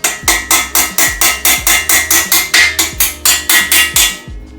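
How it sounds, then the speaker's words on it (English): A small hammer strikes a part on a 2JZ cylinder head being fitted to a 1JZ block, about seventeen sharp, evenly spaced metallic blows in quick rhythm, close and loud, then stopping. "We're gonna use a little baby hammer this time"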